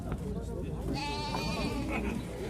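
A ewe with two-day-old twin lambs bleats in a long, wavering cry at a busy Jalal-Abad livestock market, with voices and crowd noise around her.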